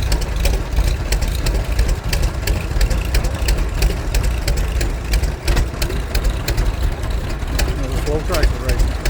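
A tractor engine idles at a spring tractor show in Killen, Alabama, a rough, loud, steady chug with rapid irregular knocks, close by, with crowd noise around it.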